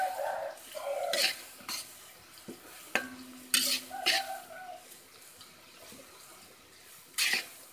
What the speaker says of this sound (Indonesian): Kita aduk-aduk terus.